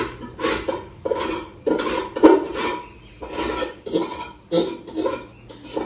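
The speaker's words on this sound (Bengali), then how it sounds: "এই যে পেঁপেটাকে কেটে দিই।" A knife cuts through a tree-ripened papaya, giving about eight separate knocks and scrapes in an uneven rhythm, close and moderately loud, with no talking.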